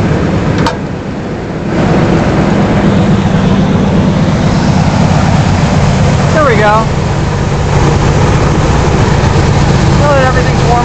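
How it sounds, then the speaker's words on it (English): A steady low 1970 SS 350 V8 engine idle rumbles throughout, warmed up, with a brief spoken phrase near the start and a few faint chirps above the drone. "Now that everything's warmed up, it has a really normal idle."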